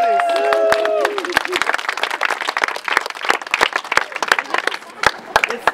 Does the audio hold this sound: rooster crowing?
no